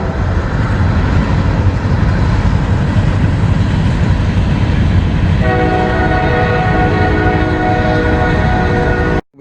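A CSX freight train rumbles past close by, loud and steady throughout, with a sustained horn chord sounding over the rolling noise in the second half.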